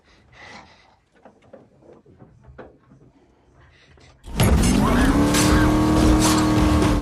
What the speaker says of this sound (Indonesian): mencoba memperbaiki apa yang ada di bawah kap mobil sebelum mencoba menyalakannya